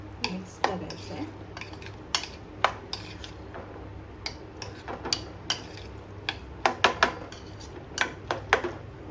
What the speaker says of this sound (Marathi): हे याच्यात टाकायचे आणि मस्तपैकी मिक्स करायचं आहे.